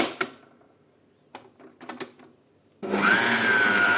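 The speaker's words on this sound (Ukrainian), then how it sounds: "Включаю міксер і тоненькою цівочкою заливаю кипяток" A few scattered clicks and knocks, then an electric hand mixer switches on and whirs loudly and steadily, beating kefir and flour batter while boiling water is poured in, its motor pitch rising slightly.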